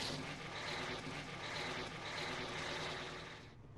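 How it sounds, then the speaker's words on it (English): A vehicle engine in the SnowRunner game starts and runs as a loud, steady, dense drone that holds throughout before easing off at the very end. "If we start up the engine"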